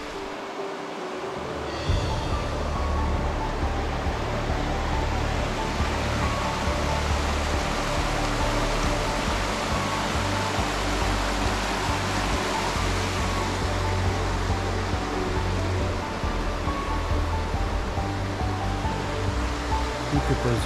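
Panther Creek flowing steadily on a misty morning, a loud, continuous broadband rush of water that fills the whole clip after a brief quieter start, with no pauses.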